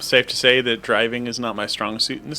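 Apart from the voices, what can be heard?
No everyday noises stand out.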